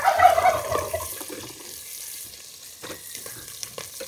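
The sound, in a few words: onions frying in a pan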